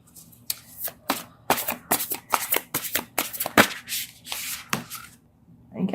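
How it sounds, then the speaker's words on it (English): Oversized oracle cards are shuffled by hand in a quiet room, giving a rapid series of crisp, papery riffles and slaps. The bursts are uneven and close by, with no talking. "these cards are so big, they're hard for me to shuffle."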